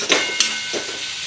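Poha with turmeric fries in a pan, giving a brief, close, steady hiss with a couple of small clicks of stirring.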